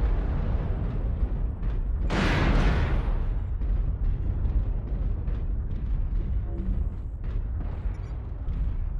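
Deep booming missile impacts from incoming fire in the video game MechWarrior Online, fighting in an Awesome AWS-8V mech, with a loud blast burst early on and continuous rumbling explosions rolling underneath throughout.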